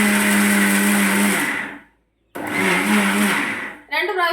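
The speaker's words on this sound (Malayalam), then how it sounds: "ഇനി നമുക്കിത് മിക്സിയിലൊന്ന് പൊടിക്കാം." A kitchen mixer grinder whirs loudly as it grinds soaked rice into puttu flour, running for a burst, stopping briefly, then starting again before cutting off.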